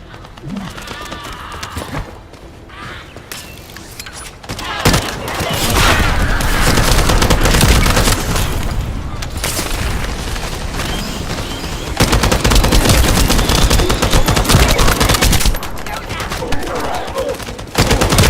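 Sustained gunfire from the sci-fi shooter video game The First Descendant, dense automatic bursts and booms layered over game sound, loud and nearly continuous.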